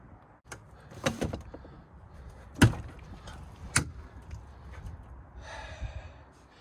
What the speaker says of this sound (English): We open the door.